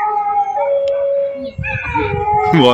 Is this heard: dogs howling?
yes